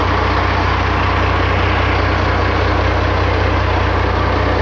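A Fuso 6D22 diesel engine in a motor banca idles while warming up, a loud, steady low throb with an even rhythm that never changes, alone with no talk.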